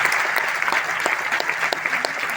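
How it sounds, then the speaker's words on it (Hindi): A hall audience at a Vashi gathering claps for the women being honoured, giving a steady burst of applause with a few sharper individual claps standing out, all moderately loud and unbroken for a couple of seconds. "तो मैं चाहता हूं हमारे सारे शेरनियों के लिए एक बार जोरदार ताली होनी चाहिए, जोरदार।"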